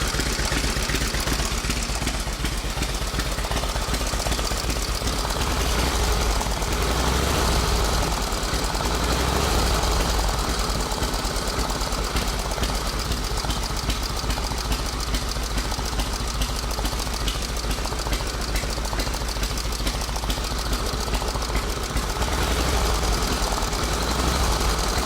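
Vintage side-valve motorcycle engine with exposed intake and exhaust lifters and a 3-speed transmission, running steadily with a dense, rapid mechanical chatter and low rumble throughout, loud and close, with no talking.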